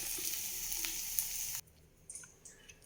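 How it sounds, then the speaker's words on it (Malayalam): Sliced onions frying in hot oil in a pan for a hotel-style tea snack, a close, bright sizzle that cuts off abruptly partway through, leaving faint scattered crackles. "ചൂടുള്ള എണ്ണയോട് കൂടിയുള്ള സവാള ഇട്ടപ്പോൾ ഇതെല്ലാം പച്ചമണം ഒന്ന് മാറി തുടങ്ങി"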